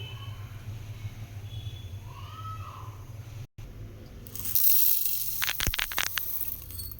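Toor dal (split pigeon peas) being washed in water: quiet low swishing at first, then after a brief gap louder sloshing, gushing and splashing bursts close by, with no talk.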